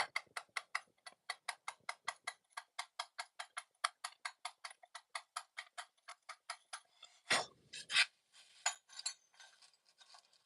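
Steady rhythmic taps of a nylon hammer on a steel chisel carving stone, sharp evenly spaced clicks for about seven seconds, then a louder burst of knocks and scraping near the end.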